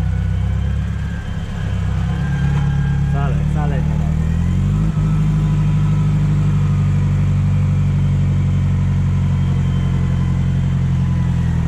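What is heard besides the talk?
tractor engine running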